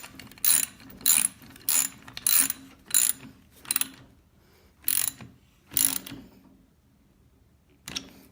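A socket wrench ratchet tightens a bolt with a washer on a homemade gymnastics floor bar, giving about eight short bursts of crisp, close clicking with brief pauses between, then a final burst after a longer gap.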